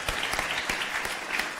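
Brief, brisk audience applause at a Future of Work plenary panel on labor mobility and demographic shifts, with a steady patter of many hands clapping for a panel speaker.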